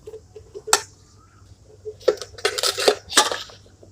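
A small metal camping pot from an SY-300 set clinks and rattles into place, a sharp tap followed by a burst of jangling metal and a final clink, close up.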